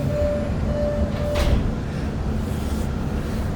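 An MBTA Orange Line subway train rides along at speed, a loud steady rumble with a brief whine and a swell of rushing noise from inside the car.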